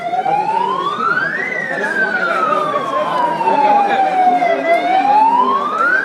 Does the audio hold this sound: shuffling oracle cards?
no